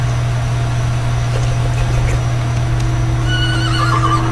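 A horse in a wild west video game gives a loud, wavering whinny near the end, over a steady engine-like hum with faint hoof clatter earlier.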